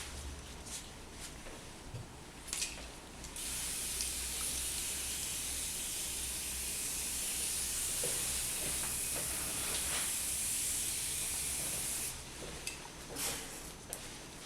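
A fine water spray rinses a face during a superficial anti-acne peel: a steady, soft hiss runs for about nine seconds, with a few light clicks and taps before and after it.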